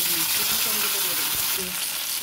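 Tomatoes hit hot mustard oil tempered with cumin, bay leaf and a dried red chilli, producing a loud, continuous close-up sizzle that stays even throughout, without talk.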